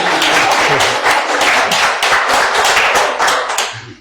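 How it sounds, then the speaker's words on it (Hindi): Audience clapping at an interview event with Swami Satya Vedant in Solan, a loud, dense patter of many hands that runs steadily for about four seconds and then starts to fade. "आप तालियां बजा सकते हैं अगर चाहे तो"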